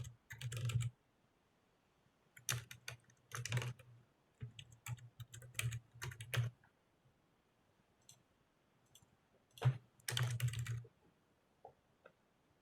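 Login credentials being typed on a computer keyboard, quiet bursts of close key clicks in short irregular runs separated by pauses, with no speech.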